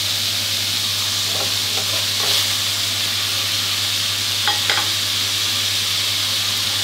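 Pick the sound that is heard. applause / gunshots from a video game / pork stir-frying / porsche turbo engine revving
pork stir-frying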